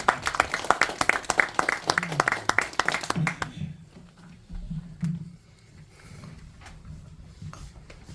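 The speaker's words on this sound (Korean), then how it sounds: "뜨거운 박수로 부탁드리겠습니다." An audience at a Korean academic lecture gives warm applause, a thick burst of many clappers that fades after about three seconds, leaving quiet room sound and a faint voice beginning to speak.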